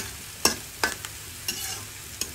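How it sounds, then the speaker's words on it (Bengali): Black cumin seeds, onion and garlic sizzle in hot oil in a pan for a pumpkin mash, a quiet steady hiss broken by four or five sharp scraping stirs of a spatula. "কালো জিরাটা ফুটে আসছে"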